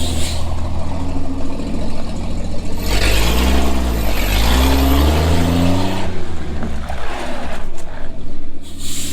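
A 1949 White truck on a road test, its engine loud and close throughout with a low droning rumble that rises and falls in pitch as the vehicle backs up, with a brief hissing burst toward the end.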